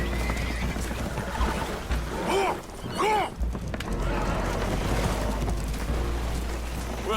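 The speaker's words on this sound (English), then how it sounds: "Horses are spooked, and we're taking on water." Spooked horses whinny and neigh aboard a damaged, leaking boat in the Red Dead Redemption 2 video game, with several rising calls around the middle over a constant rumbling background and some talk.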